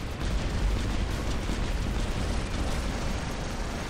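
Rocket weapons exploding in the robot combat game War Robots form a dense, continuous roar of blasts and rumbling booms, loud and unbroken throughout, with no speech over it.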